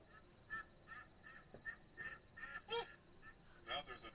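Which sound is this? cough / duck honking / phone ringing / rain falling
duck honking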